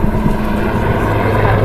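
A Royal Navy Lynx maritime attack helicopter flies a display at the Southport air show, its rotor and turbine roar a steady, broad drone with wind buffeting the microphone.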